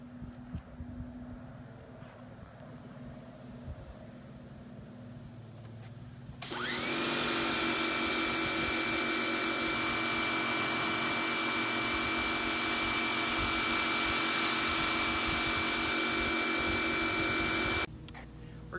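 A Generac 4200 PSI, 4.0 GPM pro-grade pressure washer sprays through a green 25-degree nozzle. A quieter background runs first, then a loud, steady hissing roar with a whining tone starts suddenly, holds for about eleven seconds and cuts off.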